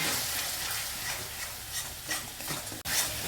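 Ginger-garlic paste with onion and a spice mix gets stirred in a pan, giving a continuous scraping and soft frying hiss with repeated strokes close by and a brief sharp knock near the end.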